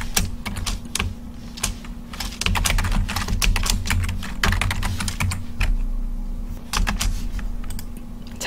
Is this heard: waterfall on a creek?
no